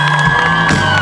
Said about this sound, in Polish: zróbcie im brawa